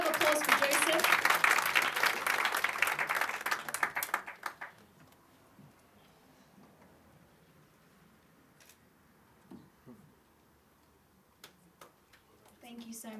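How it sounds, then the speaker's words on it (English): A round of applause for winner Joseph at a documentary screening showcase, dense clapping for about four seconds that fades out, followed by a quiet room with faint ticks and a brief voice near the end. "Big round of applause for Joseph."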